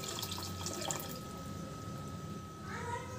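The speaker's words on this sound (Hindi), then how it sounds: "अब मैं इसमें डालूंगी दूध" Milk poured into a pan of softened grated carrots cooking over a medium flame for carrot halwa, a steady liquid pour and gurgle over a faint continuous hum, close and moderately quiet, with no talking.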